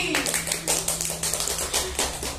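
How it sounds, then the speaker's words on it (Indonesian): A small group of people clapping during an Indonesian computer hardware lesson, scattered claps in an uneven rhythm, fairly close, with a low steady hum underneath. "Ya, tepuk tangan untuk Mbak Pungki."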